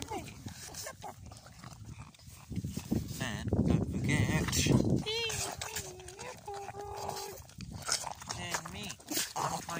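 Pug dogs outside making snorting, grunting and whining sounds close by, including a few high whimpers, while a person talks over them.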